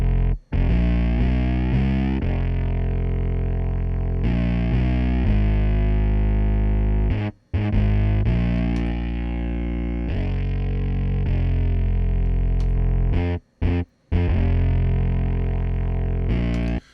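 A gritty, heavily distorted bass line plays a sustained riff with brief gaps, its tone shifting slightly as a high-pass filter EQ is switched in and out against the raw signal.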